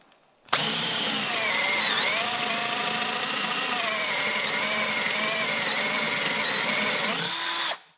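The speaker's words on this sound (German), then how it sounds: "Wir haben hier einen 28 mm Forstner Bohrer." A DeWalt DCD710 12-volt cordless drill on gear setting 2 spins up and bores steadily into wood with a 28 mm Forstner bit, a loud continuous whine with slight pitch dips under load, then stops.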